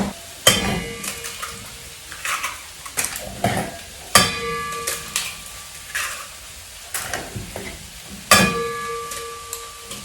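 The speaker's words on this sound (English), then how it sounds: "So beat your eggs up." Eggs are beaten in a bowl with a utensil, giving irregular bursts of clattering and sloshing strokes, some sharp clinks against the bowl, close up with quiet gaps between.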